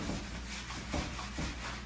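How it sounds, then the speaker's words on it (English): A sanding sponge scuffs a door surface to dull its sheen, giving soft, quiet rubbing strokes in a steady back-and-forth rhythm, close and faint with no talking. "take your sanding sponge and basically just start scuffing up that surface."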